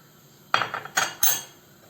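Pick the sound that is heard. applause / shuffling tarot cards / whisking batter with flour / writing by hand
whisking batter with flour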